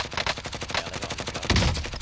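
Rapid automatic gunfire from a Grau rifle in the video game Cold War Warzone, a steady burst of evenly spaced shots ending in a heavier crack, fairly quiet and alone.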